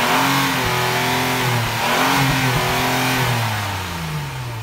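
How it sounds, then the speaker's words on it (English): Acura TLX A-Spec exhaust revving loudly and close, engine pitch climbing and falling through several throttle blips with no talking. "let me go ahead and get you these A-SPEC exhausts"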